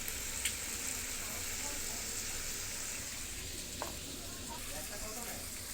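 Curry in a pan with red chilli powder just added gives a faint, steady sizzle and fry, with occasional small clinks and taps over the low hiss.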